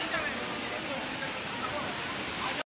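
River water rushing past at Rishikesh, a steady, dense roar of flowing water filling the whole clip at constant loudness before cutting off abruptly.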